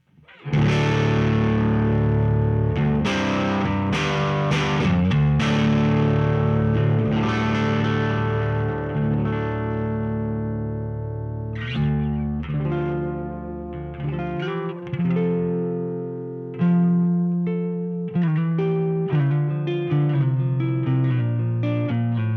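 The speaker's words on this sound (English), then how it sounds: "I'm playing through that Marshall DSL 100, and let's just start with some clean tones." Electric guitar, an Epiphone 1966 Century, played through a Marshall DSL 100 amp, ringing chords and picked notes with a full, saturated tone, loud and continuous with brief pauses between phrases.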